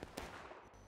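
Musket fire in the Civil War game War of Rights, a couple of sharp reports near the start of a brief, steady battle din with no voices.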